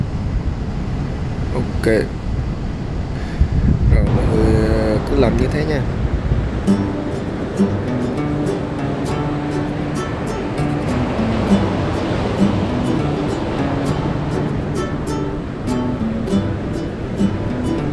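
Sea surf washes onto a Vietnamese beach where cast-net fishing goes on, a steady loud rush of breaking waves heard under a man's speech.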